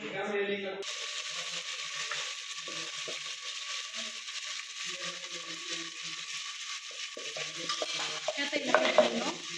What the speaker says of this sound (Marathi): वांग टाकायचं, लसूण हे आधी टाकायचं फोडणीला